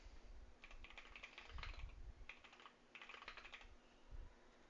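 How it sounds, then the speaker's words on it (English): Bursts of fast clicky typing on a computer keyboard fitted with older mechanical switches, close and quiet, with short pauses between runs of keystrokes. "Have you noticed my keyboard being different?"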